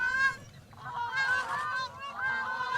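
A flock of over a hundred grey crowned cranes in Tanzania calling, loud honking goose-like trumpeting notes repeated in overlapping bursts, fairly close, with no talk over them.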